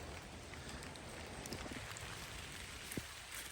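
Steady rain falling on a wet disc golf course, a constant soft hiss of drops with no talk.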